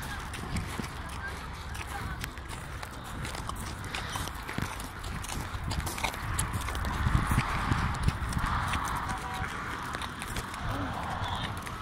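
Hooves of a white foal of a local breed clip-clop steadily as a child rides, a continuous close rhythm heard under people talking throughout.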